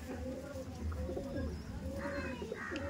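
Pigeons coo softly in repeated low, rounded phrases nearby, faint against a murmur of people talking in the background.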